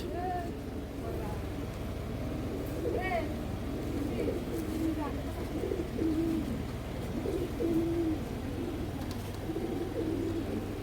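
Giribaz pigeons coo softly in the background while a person talks over a steady low hum.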